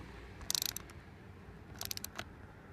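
A nut on a hand truck wheel is tightened with an adjustable wrench, giving two short bursts of faint, quick metallic clicks separated by a quiet pause.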